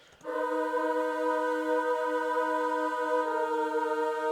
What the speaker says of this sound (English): I also added a choir sound from Gaelic Voices,